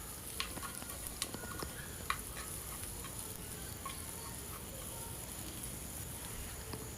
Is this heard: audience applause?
no